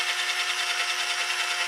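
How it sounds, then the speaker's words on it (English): A drill spins a polishing pad across a car headlight with a Meguiar's restore kit, giving a steady, even whirring hiss throughout the short stretch. "the faster drill creates a better cutting and polishing"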